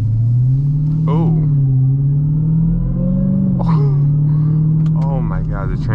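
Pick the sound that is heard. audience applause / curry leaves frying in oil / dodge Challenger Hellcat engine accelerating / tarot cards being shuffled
dodge Challenger Hellcat engine accelerating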